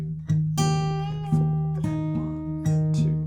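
Guitar plays the second line of tab from a song, a run of clear plucked notes struck one after another in a steady rhythm, ringing out alone.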